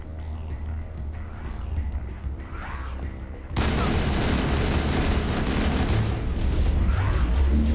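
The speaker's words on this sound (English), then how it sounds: "Is someone shooting at me?" Sustained gunfire in the Mass Effect video game erupts midway, a dense, loud barrage of shots and blasts that fills the second half after a quieter stretch of ambient game sound.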